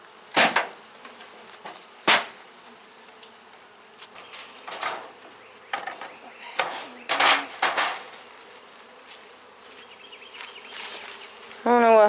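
Honeybees buzzing around an opened hive during spring housekeeping, a faint steady drone broken by sharp knocks and clicks of hive tools and frames.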